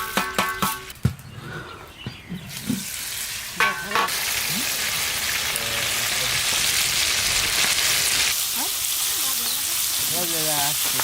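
Rice hits hot oil in a kitchen pan and fries with a loud, continuous sizzle, with stirring noises and brief speech in the opening seconds before the frying takes over.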